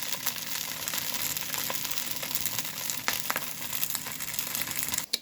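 Scrapple frying in a pan, a steady soft sizzle and crackle with scattered pops and a few crinkly clicks, close and continuous, ending in a sharp knock.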